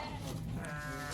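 Sheep bleat in a noisy pen on a farm in Uzbekistan, one drawn-out call over a dense, continuous wash of flock and background noise, with no talk.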